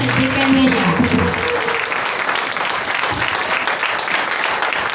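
Church congregation clapping and cheering for Pastor Michael at a Sunday service, a steady wash of applause mixed with voices and sung tones, loud and close throughout.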